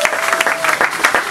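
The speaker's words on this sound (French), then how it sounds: "Est-ce que l'Assemblée peut donner en signe d'accueil les acclamations pour la gloire de Dieu?" A church congregation in Brussels gives dense, close applause to welcome a visiting pastor, a brief continuous burst of many hands clapping at once.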